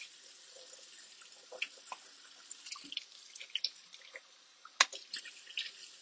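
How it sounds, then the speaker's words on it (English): Water splashes and drips while a can is rinsed in a sink, scattered small sloshes and trickles at close range, fairly quiet, with one sharper clank midway. "I just rinse it, like I rinse the can with the strainer on it, then get some water in there, and then I just do it again"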